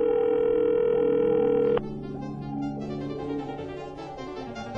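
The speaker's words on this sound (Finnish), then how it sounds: "niin kuulette tän soittoäänen" Electronic mobile phone ringtone with a steady tonal pattern for about two seconds, then shifting into a layered melodic phrase that plays on at moderate loudness, close by and with no talk over it.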